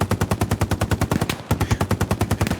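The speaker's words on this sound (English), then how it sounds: "Johnny, please demonstrate improper suppressive fire with the MG" Machine gun firing full-auto in the video game Hell Let Loose, a loud, rapid, steady burst of close shots, briefly broken by a short pause before the stream of fire resumes.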